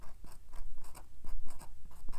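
Pen writing tiny letters on a watercolor birthday card, a series of short scratchy strokes at close range in quick uneven bursts, with no voices.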